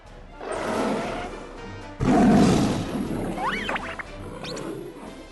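A circus lion lets out a loud, rough roar that surges and fades over several seconds, with a few higher squeaky cries near the end.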